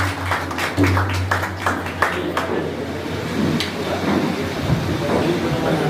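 Audience applause at a literary gathering in Nepal, a brisk patter of clapping from a seated crowd that is strongest early, then thins into room noise and low murmur.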